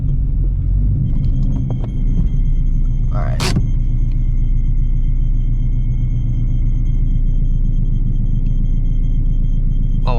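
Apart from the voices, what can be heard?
supercharged Shelby GT350 engine noise on startup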